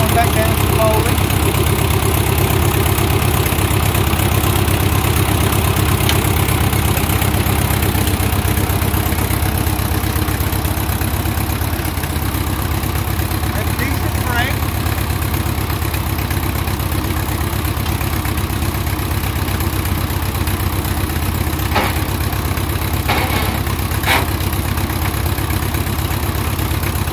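A Ford 660 tractor engine idles steadily and loudly throughout, a continuous low rumble with a few faint clicks and knocks in the background.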